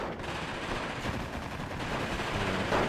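Gunfire in the WWII strategy game Steel Division 2, as infantry units fire on Soviet guards: a dense, continuous crackle of rifle and machine-gun shots blends into a steady, roaring battle din with no pauses.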